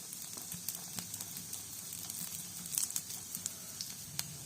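Mustard seeds, cumin and asafoetida sizzle in hot oil for tempering in a pan, a soft, steady fry broken by scattered sharp pops and crackles from the seeds.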